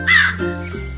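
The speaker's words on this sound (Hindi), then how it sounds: "और जब मन होता अपनी बेसुरी आवाज में काव काव करकर गाना गाता रहता।" A single short crow caw in a forest setting, a loud harsh call up close that fades within a second.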